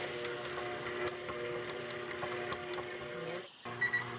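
A stand mixer kneading biscuit dough in a bowl, a fast, steady mechanical clicking over a motor hum that cuts out for a moment before resuming.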